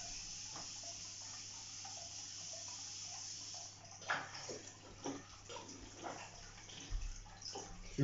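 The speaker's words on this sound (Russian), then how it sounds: "воду прям с крана буду подавать. Итак, сейчас водичку включаем." Tap water running through a hose into a home aquarium during a water change, a faint steady hiss of flow that turns to irregular splashing and gurgling partway through.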